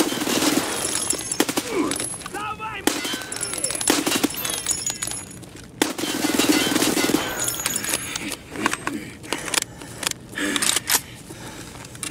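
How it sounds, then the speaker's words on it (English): Gunshots in Escape From Tarkov on the Factory map, sharp repeated shots and bursts scattered through the stretch amid movement and gear rattle, loud and close. "Another lucky shot on the scav."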